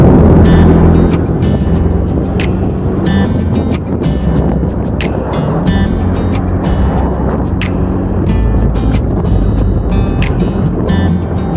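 A boat moves over moderate sea waves with a loud, constant engine and water rush, up close and broken by repeated sharp slaps and splashes against the hull.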